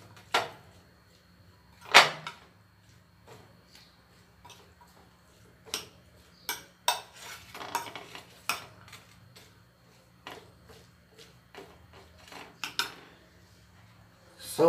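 Sauce ingredients for molho lambão being mixed in a bowl, heard as sparse clinks and scrapes of utensil on dish, irregular and close, separated by quiet pauses.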